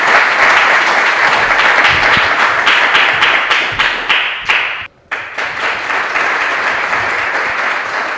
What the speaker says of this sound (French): Merci beaucoup d'applaudir Amber